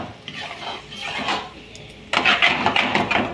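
A spoon scrapes and clanks against a pan while thick kadai veg gravy is mixed, irregular metallic knocks and stirring noises that grow busier and louder in the second half.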